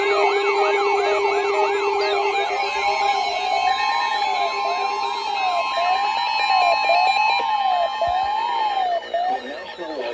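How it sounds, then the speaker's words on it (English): Emergency Alert System warning tones for a severe thunderstorm warning over the New Orleans area, with loud, continuous, wavering electronic alert tones sweeping up and down and a steady buzzing drone underneath, with no talking. "severe thunderstorm warning has been issued until 2:30 a.m. Central Standard Time for the following."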